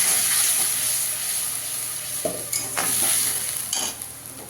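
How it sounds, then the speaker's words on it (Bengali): Spices go into onions frying in a pan, giving a continuous close sizzle with several sharp scrapes and knocks from a stirring spoon against the pan. "পেঁয়াজটা আমার একটু লাল লাল করে ভাজা হয়ে গেছে। এবারে মশলাটা দিয়ে দেবো।"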